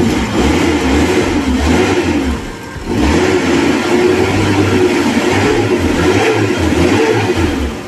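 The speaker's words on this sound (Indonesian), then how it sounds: "Suara mesin garing teman-teman." Engine of a 2005 Suzuki Carry 1000 revving, a steady loud mid-pitched drone that dips briefly then climbs back and holds, close to the engine bay with no talk.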